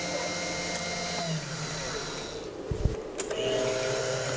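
A milling cutter machines metal on a mill with a sustained whining, tonal cutting noise. The sound dips briefly midway, with a couple of sharp clicks, before the whine resumes.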